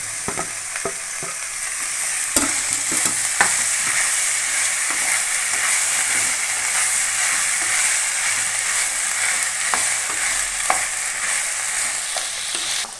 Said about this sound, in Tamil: இப்போ தக்காளி ஆட் பண்ணி தக்காளியை வதக்கிக்கலாம்